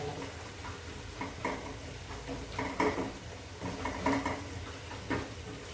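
Spinach cooking in tomato gravy for palak paneer, a soft steady sizzle with intermittent spoon scrapes and stirring clinks against the pan, close and fairly quiet.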